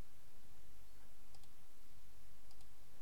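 A computer mouse clicks twice, faint and sharp, about a second apart, over a steady low hum.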